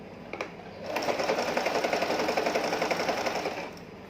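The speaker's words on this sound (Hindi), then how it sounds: "इसीलिए मैं यहाँ पर सिलाई कर रही हूँ यहाँ पे ऐसे।" A sewing machine stitches a suitcase cover made from old jeans, with a fast, even whirring run of needle strokes that starts and stops cleanly, close and alone without talk.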